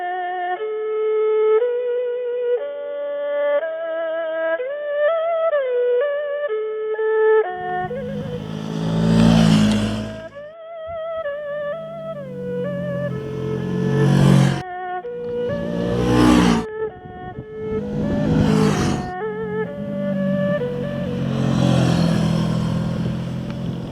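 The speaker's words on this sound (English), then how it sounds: "This is the CF Moto 650 NK." CF Moto 650NK motorcycle engine, its loud, close revs swelling in several bursts over a steady run, while a music bed plays along.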